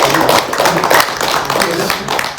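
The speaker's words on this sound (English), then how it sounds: "everybody give a big round of applause to one another" A yoga workshop audience claps together in a dense, steady round of applause that lasts a couple of seconds, loud and close, with voices mixed in.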